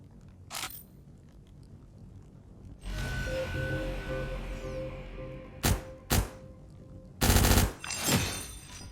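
Gunfire in the Cyber Hunter shooting video game, with an early shot followed by a sustained mechanical whir, then several sharp, loud gunshots and a heavy burst near the end.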